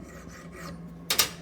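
A metal file rasps along the edge of an old pair of tin snips during restoration, a few short close strokes with one louder scrape near the end.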